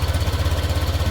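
A small motorcycle engine runs steadily nearby, with a low, even pulsing putter repeating rapidly throughout, loud and alone with no talk.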